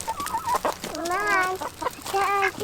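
Several chickens cluck and squawk close by in a short, busy burst of overlapping calls, with a few higher drawn-out notes mixed in.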